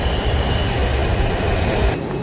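A Washington DC Metro train running through a deep underground station, with a loud, continuous rumble of wheels on rail that cuts off sharply near the end.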